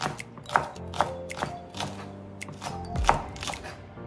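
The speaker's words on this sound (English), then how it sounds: "I have 2 stalks of scallion, or some people call it green onion. I'm going to chop that." A knife chopping two washed scallion stalks on a cutting board: sharp, evenly spaced knocks, roughly two per second, close and clear, with no talk.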